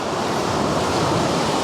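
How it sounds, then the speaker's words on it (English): Ocean waves wash in on a shoreline in a broad, steady surf roar that is loud and close, mixed with some wind noise, and nobody speaks. "Second I turn my back, that water will come in."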